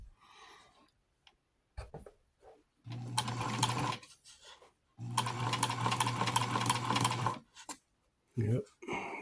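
A vintage sewing machine fitted with a Greist blind stitch hemmer runs in two bursts of fast, steady mechanical whirring and ticking. A person talks quietly in the short pauses between bursts.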